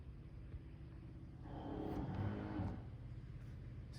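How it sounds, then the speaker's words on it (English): An 84-inch Big Ass Fans Haiku ceiling fan spins up, its steady low whir swelling louder in the middle as the speed rises, then easing back down to a softer hum. "the fan's going to spin faster and then slow down after a couple of seconds"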